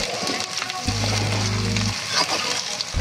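Goat leg meat sizzles steadily as it is sautéed in a pan, a constant frying hiss with a low stove hum underneath and no talking.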